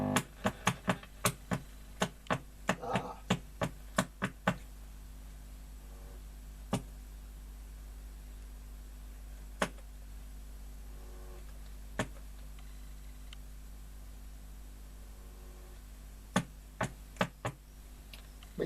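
A Fidelity Playtime tape recorder mechanism runs with a quick series of sharp ticks and clicks at first, then sparse isolated clicks over a faint steady hum, close and quiet.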